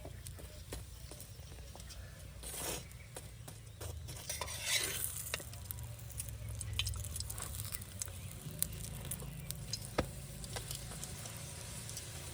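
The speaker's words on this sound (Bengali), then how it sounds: "এবার আমি এক এক করে সব পরোটাগুলো ভেজে নেব।" Spinach and paneer parathas fry in a pan with a steady, close sizzle and crackle, punctuated by brief scraping or turning noises, with no talking.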